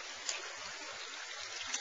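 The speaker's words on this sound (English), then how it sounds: "under the waterfall because that's a cold pool" Waterfall pouring into a cold pool at a hot spring, a soft, continuous hiss of falling water heard from a little distance, steady and fairly faint throughout.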